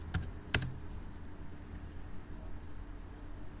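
Keys on a computer keyboard tapped while code is written during a programming lesson on variables, with a couple of sharp, close clicks near the start and then a quiet, steady background hiss.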